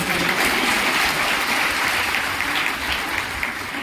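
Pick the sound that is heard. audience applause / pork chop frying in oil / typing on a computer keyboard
audience applause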